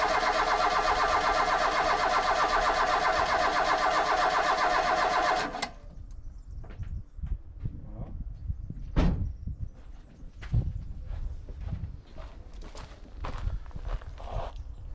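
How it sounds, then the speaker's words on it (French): A carburetted Fiat Abarth engine turns over on the starter with the ignition off after a long lay-up, giving a steady, dense churning for about five seconds before stopping. Scattered clicks and knocks follow. "Je vais faire tourner le moteur sans allumage."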